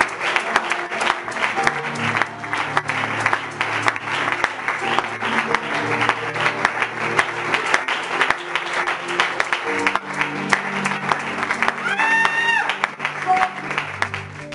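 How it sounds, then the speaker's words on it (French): A church congregation at a January retreat applauds and cheers continuously, dense clapping mixed with crowd noise and a tone rising briefly near the end. "tu fais bien d'acclamer, tu peux exagérer par tes acclamations"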